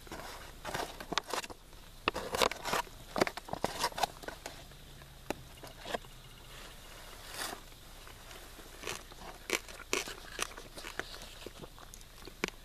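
Irregular crisp crunching bites of clover, close and fairly quiet, with scattered clicks and rustles outdoors and no talking.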